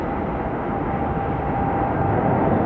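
Boeing 777 jet engines rumbling at takeoff at Atlanta Hartsfield airport, a steady, dense roar from some distance that builds slightly in loudness, with no talking.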